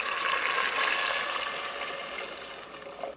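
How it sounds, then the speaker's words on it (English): Fish stock poured into a pot of curry with crushed tomato, turmeric and Madras-style curry powder, a steady close splashing pour that tapers off near the end, alone without talk. "And now I'm adding fish stock."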